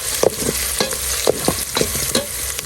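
Garlic, onion and ginger sautéing in a pan, loud and close, with a steady frying sizzle and a rhythm of stirring strokes scraping the pan.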